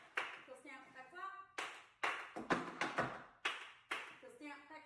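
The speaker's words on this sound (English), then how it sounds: "Heel stamp, back clap, stamp brush." Dance heel stamps and back claps in a rhythmic step routine, sharp percussive hits repeating in a steady pattern while a voice calls out the steps over them.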